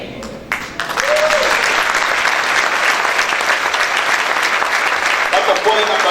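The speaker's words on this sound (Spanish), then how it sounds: "¿Cuántos pueden aplaudir la puerta al Señor?" A church congregation applauds the Lord after a brief spoken moment at the start, a loud, dense and sustained clapping that fills the space, with a voice briefly audible at the edges.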